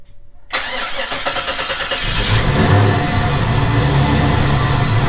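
An LS-powered Nissan 300ZX, fitted with a new injector, starts for the first time after sitting six months: a rapid starter crank catches into a loud, rough-revving engine that settles into a steady, throaty idle, with no talk.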